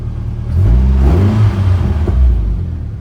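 A Nissan S14 engine revving in a garage with a newly fitted exhaust: a loud, close throaty rumble that swells into a rev, dips, rises again and then settles, with no talk over it.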